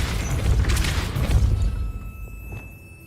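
A Depulso force spell goes off in Hogwarts Legacy, giving a loud booming burst with crackling impact that lasts about a second and a half, then fades into a quiet tail with a faint later knock.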